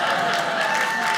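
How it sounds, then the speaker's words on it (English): Audience at a stand-up comedy show claps, a brief, steady patter of applause from the room filling the whole moment. "Some of y'all are clapping."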